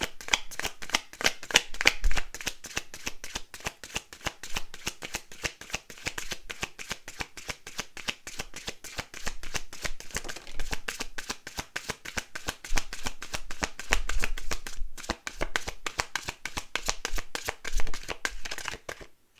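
A deck of cards is shuffled over and over, producing dense, rapid riffling flutters with brief pauses, close and fairly loud, with no voices.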